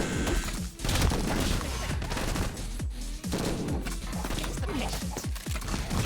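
Rapid gunfire in the combat video game Madness: Project Nexus, a dense barrage of overlapping automatic bursts and sharp cracks with impacts, loud and continuous throughout.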